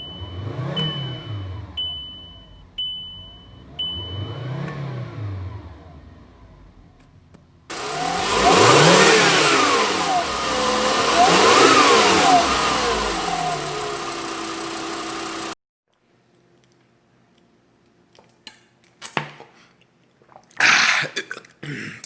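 A warmed-up car engine rises and falls in repeated revs, then holds a louder, rougher roar before cutting off, followed by a few scattered knocks and bursts.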